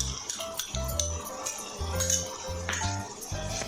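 A spoon stirs and scrapes a tomato and yogurt mixture in a pan, giving soft, close clinks and scrapes in an uneven rhythm with a low background hum.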